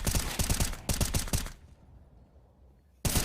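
Counter-Strike gunfire in a British Army esports match, several rapid bursts of close, sharp shots in quick succession, a pause of quiet room tone, then another loud burst.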